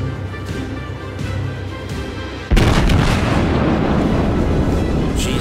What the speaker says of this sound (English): this has some long range guns